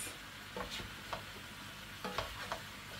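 Leeks being stirred in a pot for a Turkish leek dish: a handful of soft scraping strokes scattered over a low, steady simmer, close and fairly quiet, with no one speaking.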